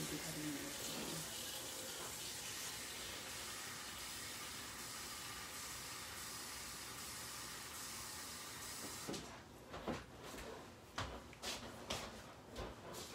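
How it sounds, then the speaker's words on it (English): Water runs steadily from a tap for several seconds, then stops, followed by a few soft clinks and handling noises. "All right, so I have water to wash my hand,"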